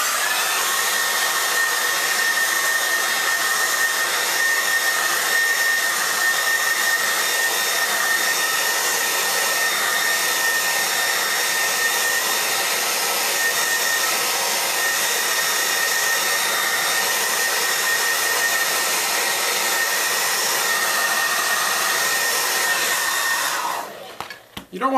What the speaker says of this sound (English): we're going to actually heat up this piece of tubing with a hairdryer